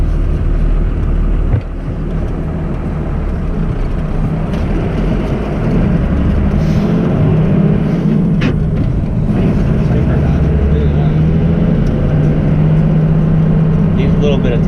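An old pickup truck that needs clutch work rumbles along steadily with a low engine drone and wind buffeting, loud and close, while people talk over it.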